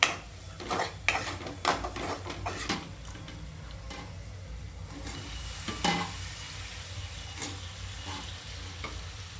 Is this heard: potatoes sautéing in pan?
yes